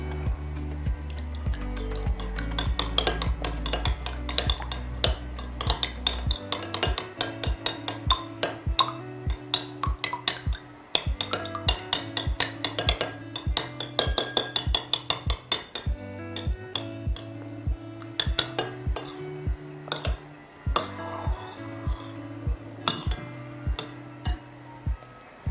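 An egg mixture for an omelette is beaten in a bowl: a fork clinks against the bowl in a long run of rapid, rhythmic taps under steady background music, close and fairly clear.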